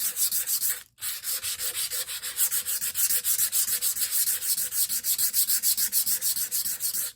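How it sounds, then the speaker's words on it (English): Torn sandpaper lightly sanding a sheet of stretched paper in steady, close, rhythmic back-and-forth strokes, broken by one short pause near the start, with no voices. "what I'm going to do is just lightly sand this"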